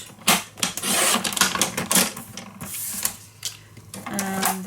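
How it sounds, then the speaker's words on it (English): Paper cut at 1 inch on a trimmer for a mini travel album, with a run of close, rhythmic scraping and clicking strokes, followed by a soft rustle. "So I'm first going to cut this at 1 inch"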